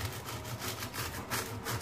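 A knife saws back and forth through baked puff pastry sheets for a strawberry mille-feuille, giving a steady scraping rasp in repeated strokes, close but fairly quiet.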